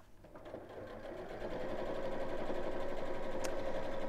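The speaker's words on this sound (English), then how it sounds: "bear with me while I sew lots of straight lines now" A sewing machine runs steadily, stitching long straight seams around a bag, its hum swelling slightly and then holding a continuous even drone with no voices.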